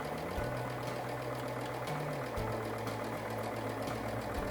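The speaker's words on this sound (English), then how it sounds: "And then I'm going to just sew all the way down" A sewing machine stitches a half square triangle quilt block, its close, steady motor whir and rapid needle chatter running continuously, with small shifts in pitch as the speed changes.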